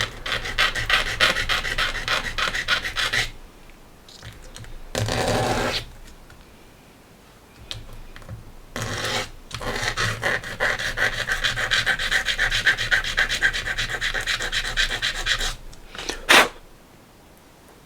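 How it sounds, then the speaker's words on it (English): Hand sanding with a small piece of sandpaper on a miniature conversion, heard as close, bursty rubbing and rasping strokes in several separate runs with short pauses between them. "let me just grab a little bit of sandpaper."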